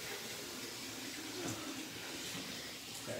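Hot water pours steadily in a continuous broadband rush, close and moderately loud, with no talking over it.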